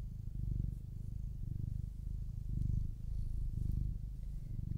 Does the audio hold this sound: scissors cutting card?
no